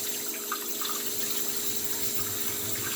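Starchy rinse water from washed rice is poured out into a kitchen sink, making a steady, continuous rush of water from start to end with no talking.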